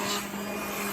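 An immersion blender purees carrot ginger soup with a steady, loud motor whine held fully submerged in the liquid, running continuously without pause.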